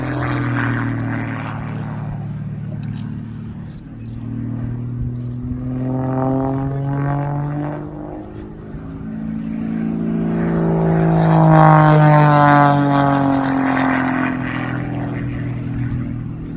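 A Beechcraft Sierra light propeller plane makes a display pass at the 2019 Parkes airshow. Its loud, droning engine and propeller rise and fall in pitch and volume as it sweeps past and climbs away.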